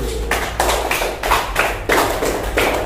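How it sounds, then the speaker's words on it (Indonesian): Hands clapping in a classroom, a rhythmic run of muffled group claps in quick pulses, moderately close, with no talking over them. "Tepuk tangan dulu"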